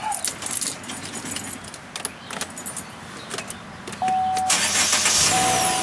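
A 2012 Chevy Sonic with a clutch is started: keys jangle near the ignition, then the engine cranks and catches at about four seconds and settles into a steady, fairly loud idle.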